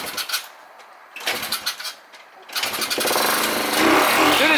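A small minibike engine starts with a few sputtering bursts and cuts out, then catches and runs on at a steady, loud idle.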